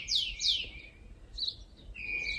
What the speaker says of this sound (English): Here are the birds.